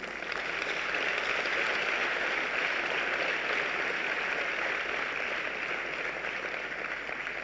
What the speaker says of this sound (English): I think the two of them deserve some applause